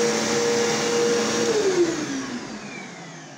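Two Bissell upright vacuum cleaners, a Powerforce and a Cleanview II Powertrack, whine together at close range, then wind down with falling pitch as they are switched off.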